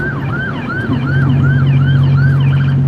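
An ambulance siren whoops in a fast, repeating rising-falling pattern, loud and close, over a steady engine drone.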